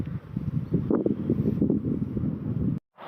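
Light breeze buffets the microphone at a Scottish wild camp, a steady close rush with gusty swells, dropping out briefly near the end.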